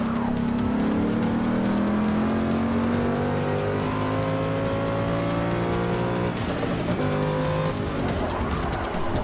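A Corvette C7R race car roars steadily through the first lap of a Forza Motorsport 6 race, its engine note climbing and dropping through gear changes with brief tire squeal, loud and continuous with no talking.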